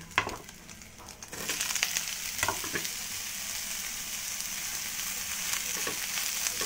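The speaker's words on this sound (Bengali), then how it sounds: "সয়াবিনটাও আমি ভাজতে তুলে দিয়েছি সাদা তেলের মধ্যে" Soybean chunks and paneer fry in white oil with a steady, dense sizzle that swells after a quieter start, broken by occasional stirring clicks.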